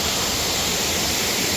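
A full-flowing waterfall in the Path of the Titan dinosaur game, a dense, constant roaring rush of water that fills the whole clip without a break.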